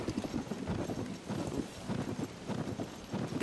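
A horse galloping in the video game Zelda: Tears of the Kingdom, a rapid, steady clip-clop of hooves close by, repeating rhythmically throughout.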